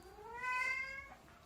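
A single drawn-out cat meow, rising then falling in pitch, heard close and clear against a quiet room.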